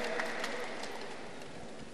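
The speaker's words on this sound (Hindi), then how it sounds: "हेमांग बच्चे के लिए जोरदार ताली बजाओ।" Audience applause for a child at an outdoor yoga session, a steady dense wash of clapping from a crowd, held evenly for a couple of seconds with no talk over it.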